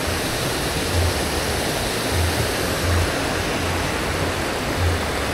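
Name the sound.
flowing river water near a tea factory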